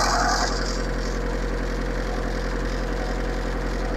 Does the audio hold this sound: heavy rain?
no